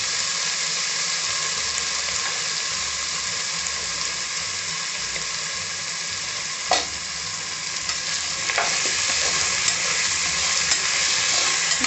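Potatoes sizzling in hot oil for egg biryani while being stirred, a steady loud frying hiss with occasional scrapes of the spoon, close and continuous.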